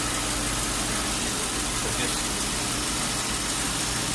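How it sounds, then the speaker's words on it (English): A Town Car engine idles with the AC on high and its compressor cycling, giving a steady, close mechanical rumble and broad hiss that holds without pause for the whole stretch. "As you can see, the compressor turns on, it's off, now it's turning on, see?"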